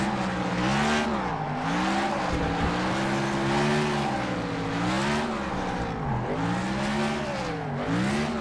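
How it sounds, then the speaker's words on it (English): Race car doing a burnout at Chicagoland racetrack: a loud, sustained engine roar that rises and falls in pitch with revving, mixed with continuous tire squeal and hiss. "Brent Owen is known for his burnouts."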